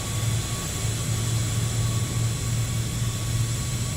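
Airplane running across the ramp in an A320 flight simulator, a steady roaring jet noise with a deep droning hum and thin tonal whine, loud and unchanging from start to finish.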